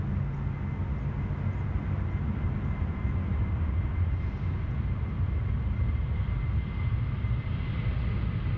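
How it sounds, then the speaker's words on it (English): A Rex airliner taking off at Sydney Airport, a steady distant engine roar that holds even and moderately quiet with no voices over it. "What was that Rex flight that just took off?"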